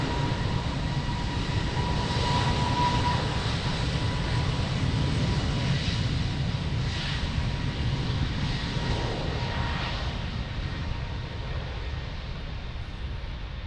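Airliner roaring down runway 02 at Lisbon Airport on takeoff, a loud, steady broadband jet rumble that holds throughout and fades slightly toward the end, with no voices.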